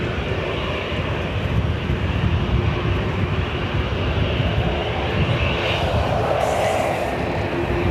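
An ATR turboprop approaches Dublin Airport with a loud, steady engine drone and a broad propeller rumble that holds close throughout. Brief higher hissy noise comes in near the end.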